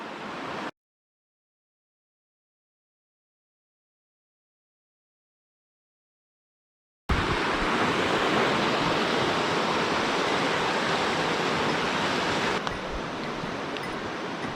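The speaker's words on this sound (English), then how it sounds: "Beautiful river." A river rushes loudly and steadily beneath a trail bridge on the Grey Wolf Trail near the Dosewallips junction, a dense continuous roar after a stretch of silence.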